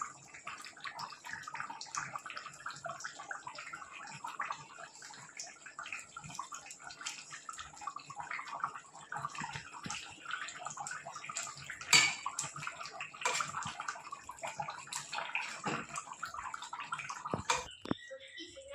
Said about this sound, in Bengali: মাছ দিয়ে টকবক করে একটু ফুটিয়ে দিয়েছি